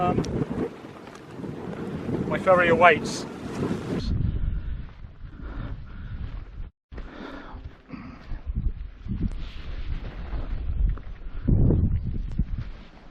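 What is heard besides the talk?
wind blowing on an island hilltop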